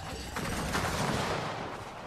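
Gunfire in the video game Gears of War 4 Horde mode, a dense burst of rapid shots blending into a continuous rattling roar, fairly distant and muffled.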